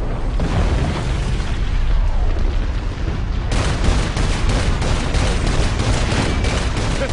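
A loud, dense explosion rumbles in the video game Saints Row 4 amid continuous crackling blasts like gunfire, with a fresh heavy burst partway through and no talk over it.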